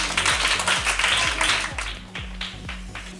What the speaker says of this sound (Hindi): ज़रा तालियां होनी चाहिए।